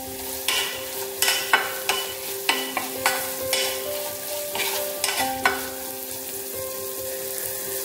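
Raw mango curry for Vishu being stirred in a pan over a low flame, with a spoon scraping and clinking in repeated strokes roughly every half second over a soft, steady sizzle; no talking.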